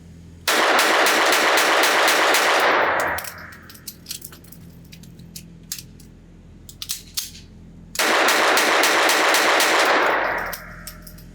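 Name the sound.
rapid gunshots from a Beretta 21A Bobcat Inox .22 LR pistol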